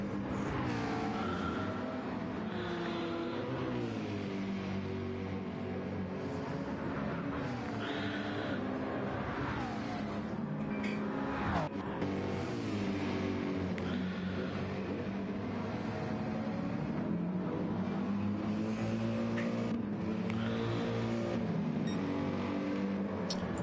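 Race cars roar through a sim racing game, including a Mazda RX Vision, with dense, continuous engine whine from several cars shifting pitch together as they accelerate, loud and steady throughout with no voices.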